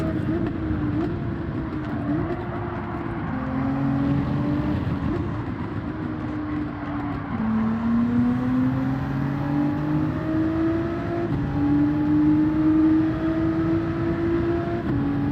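Race car engines in Gran Turismo 7 drone continuously, pitch climbing and dropping as gears shift, steady and close throughout with no pauses or talk.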